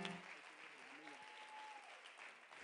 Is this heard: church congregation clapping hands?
yes